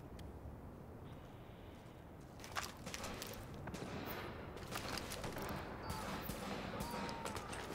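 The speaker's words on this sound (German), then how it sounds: "man hört Leute sterben und Schüsse" Gunfire in The Division video game, a scatter of faint sharp shots and bursts over a low game soundscape, fairly distant and quiet throughout.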